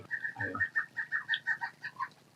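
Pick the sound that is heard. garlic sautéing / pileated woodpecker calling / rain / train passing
pileated woodpecker calling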